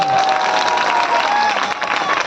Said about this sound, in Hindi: जरा जोरदार तालियां बजाइए